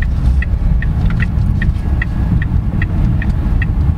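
A 2023 Jetour Ice Cream small electric car circles a roundabout, with a steady low rumble of tyres and road and a regular ticking indicator clicking throughout.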